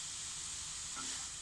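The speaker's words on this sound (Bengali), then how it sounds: "দিয়ে ভালো করে এটা মিশিয়ে এইভাবে নাড়িয়ে নাড়িয়ে এটাকে কষিয়ে নিতে হবে।" Beetroot paste with a little water sizzling in a pan over high flame while being stirred, a steady close hiss with no talk.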